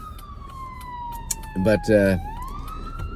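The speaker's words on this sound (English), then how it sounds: "it looks like a ambulance or something" A wailing ambulance siren sweeps down and rises again as it passes fairly close, while a person speaks briefly over it.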